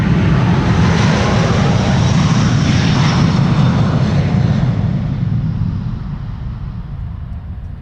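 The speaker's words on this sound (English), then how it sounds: "This is Delta Airlines flight 143 to Seattle." A Delta Airlines jet airliner climbs away from Schiphol bound for Seattle, its loud, broad engine roar holding steady before slowly fading with distance, with no voices.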